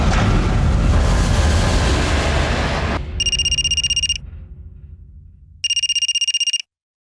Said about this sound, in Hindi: दिवाकर, सनाया का फोन है